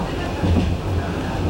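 A train rolls through the Austrian Alps, heard as a steady loud rumble with low rhythmic rail noise and a brief swell midway.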